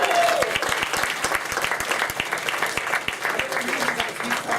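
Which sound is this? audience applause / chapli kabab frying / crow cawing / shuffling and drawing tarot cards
audience applause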